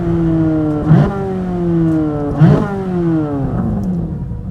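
A Chevrolet Corvette C8 Z06 engine revs loud and close through downshifts, its pitch sliding steadily down between two sharp throttle blips about a second and a half apart.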